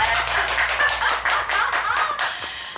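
A burst of applause, many hands clapping in a dense rapid patter, loud and close, tapering slightly toward the end.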